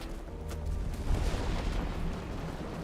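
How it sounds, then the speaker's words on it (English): Explosions and concussive blasts from a co-op video game called The Long Way Home, a dense, continuous low rumble of booms with one heavier thud near the middle and no clear breaks between hits. "these concussions and explosions shake are too fucking much"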